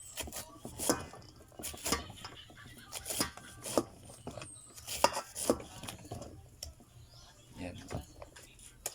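Knife chopping pieces of jackfruit (langka) on a board in a home kitchen, a series of sharp irregular thuds at close range, with quiet speech between the cuts.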